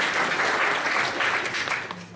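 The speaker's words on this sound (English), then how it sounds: "We need an applause for a good baritone." Applause from a congregation for a baritone singer, a dense wash of clapping that fills the room and tapers slightly at the end.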